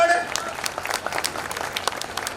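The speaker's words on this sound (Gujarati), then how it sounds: "પ્રદીપભાઈ માટે તાળી, પ્રમુખ માટે તાળી ન પાડે." A crowd at a Janmashtami community celebration in Mumbai claps steadily throughout, dense applause with scattered sharper hand claps, fairly close and continuous.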